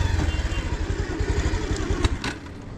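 A motorcycle thumps along in first gear, its engine pulsing in a steady, rapid low rhythm close by, with a few sharper clatters near the end.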